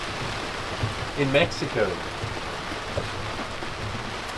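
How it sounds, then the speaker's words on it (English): A chubasco rain shower over a sailboat on the northern Sea of Cortez, Mexico, makes a steady, dense hiss of rain that runs through the whole clip, with someone talking briefly over it. "I just had my first rain shower"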